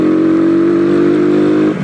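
A motorcycle converted to run on E100 ethanol idles loud and close with a steady droning engine tone that cuts off abruptly near the end, no talking.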